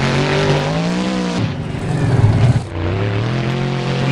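A monster truck engine at a freestyle tournament revs hard during a power wheelie attempt, a loud droning roar with rising and falling pitch and a deeper surge in the middle.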